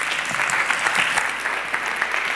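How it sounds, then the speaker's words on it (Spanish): An audience at a conference talk claps for a speaker as he is introduced: dense, steady applause from many hands filling the room, fairly loud, with no voices over it. "Por favor, un aplauso para él."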